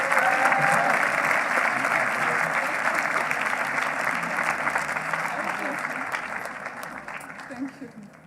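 Applause from a large crowd at a law school commencement ceremony sounds as a thick, continuous wash of clapping that starts strong and slowly fades over several seconds, with faint cheering and crowd murmur beneath it.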